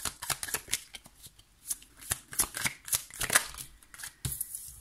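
Tarot cards are shuffled by hand close up, making a run of quick crisp riffling and flapping bursts in an uneven rhythm with no talk.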